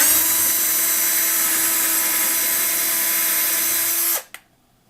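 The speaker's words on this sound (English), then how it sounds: "And we're drilling the second hole." A power drill whines steadily at high speed for about four seconds, close and loud, then stops abruptly with a brief clunk.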